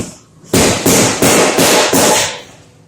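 A Pro-Series power hammer strikes hot metal five times in quick, even succession, each blow a loud, sharp, close impact with a short ringing decay.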